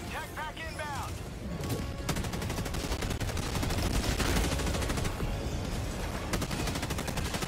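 Gunfire in Helldivers 2 comes as sustained rapid automatic bursts, dense and loud, with a few sharp tonal chirps near the start, rattling steadily for several seconds.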